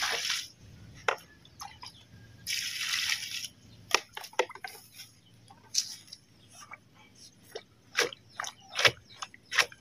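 Water poured onto soil, producing wet splashing, dripping and squishing bursts that come in irregular clusters, close and moderately loud against a quiet background.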